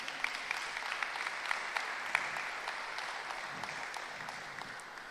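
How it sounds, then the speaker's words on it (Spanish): A church congregation applauds in a steady, dense wash of clapping that carries on throughout, with a few sharper claps standing out against the crowd. "Aplausos para el Señor."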